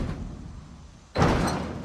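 A building's main door in the Project Zomboid video game bangs shut once after a quiet stretch, a sudden broad thud that stays loud with a short ringing tail and no talk.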